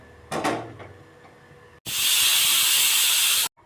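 A stovetop pressure cooker of ven pongal rice lets out a loud, steady blast of hissing steam for under two seconds. It follows a brief clatter and then cuts off sharply.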